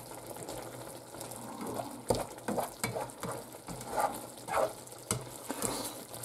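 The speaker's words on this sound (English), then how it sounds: "Give it a bit of a stir to make sure it's not stuck on the bottom." Dopiaza curry bubbling and sizzling in a pan while a spoon stirs and scrapes the bottom, with irregular scraping strokes over a steady moderate frying hiss.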